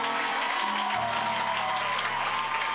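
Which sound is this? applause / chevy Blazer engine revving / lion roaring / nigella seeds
applause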